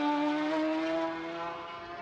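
A racing motorcycle at the 2023 Macau Motorcycle Grand Prix warm-up pulls out of Fisherman's Bend in second gear. Its high, steady engine whine sounds close and loud at first, then eases slightly in level.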